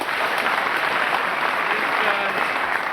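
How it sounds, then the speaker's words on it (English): A studio audience applauds on a late-night talk show, with steady, dense clapping from a large crowd filling the whole moment at close range. "Applause."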